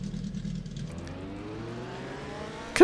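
A video game car engine hums and revs in a smooth, rising whir, fairly close and alone, ending in a sudden loud burst.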